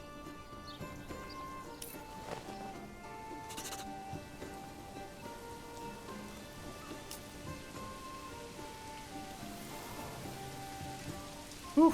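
Steady rain patters down in the Manor Lords medieval village, a soft continuous hiss of drops on the ground that runs the whole time at moderate volume, with faint ambient game tones underneath.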